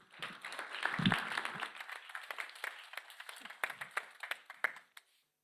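An audience applauds after a speech at a youth food innovation final event, with a moderate crowd clapping steadily and thinning out before it stops.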